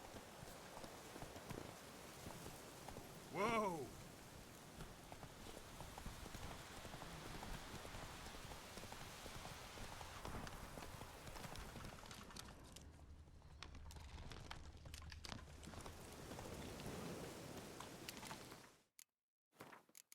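Hoofbeats of the horse Roach galloping in The Witcher 3, a steady rapid clip-clop running throughout over a dense hiss of ambient game noise, cutting off abruptly near the end.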